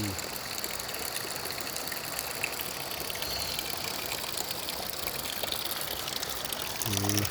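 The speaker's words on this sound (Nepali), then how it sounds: "यस्तो राम्रो पानी आइरहेको छ" Water gushing steadily at a forest cave shrine, a continuous broadband rush that stays loud and unbroken throughout, with a faint low rumble briefly near the end.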